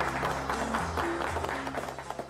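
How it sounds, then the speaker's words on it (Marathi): Office colleagues applaud in a brief, soft patter of clapping, partly under a background musical tone. "टाळ्या वाजवा सगळे."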